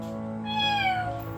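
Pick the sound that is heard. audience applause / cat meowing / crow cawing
cat meowing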